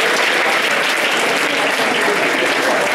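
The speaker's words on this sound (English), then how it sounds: "Please give a big round of applause to Dr." A loud, dense round of applause from an audience at a speaker series event, continuous and close, with many hands clapping evenly throughout.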